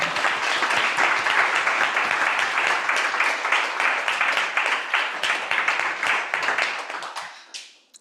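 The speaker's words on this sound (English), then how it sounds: "Can we give Catherine one more round of applause for such a great..." An audience claps together in sustained applause for a presenter named Catherine, a dense steady patter that holds strong for several seconds and then fades out near the end.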